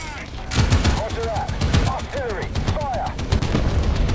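Gunfire and artillery blasts from a tank video game: repeated sharp bangs and booming impacts come in quick irregular bursts, loud and close, with voices talking over the combat.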